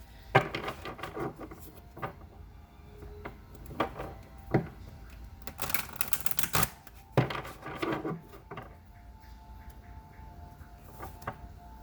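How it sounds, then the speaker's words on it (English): Green Witch Oracle cards are drawn and handled during a reading, producing a series of sharp, close taps and soft shuffling flicks at an uneven pace, with a dense burst of card handling in the middle. "Let's pull a couple cards."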